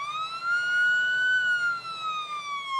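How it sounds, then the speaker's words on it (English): An ambulance siren wailing on a road, a clear tonal sweep rising and then falling slowly over a few seconds, fairly loud and close with faint traffic rumble beneath. "An ambulance!"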